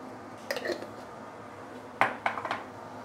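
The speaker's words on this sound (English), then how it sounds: "so I'm adding in some fried garlic" A spoon clinks against a pan as fried garlic is added and stirred into a dark soy sauce for fried emperor fish, in two short clusters of light metallic taps over a quiet background.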